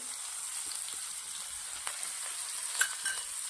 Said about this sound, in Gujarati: ડુંગળી અને મરચાંને સરસ મજાના શેકી લેવાના છે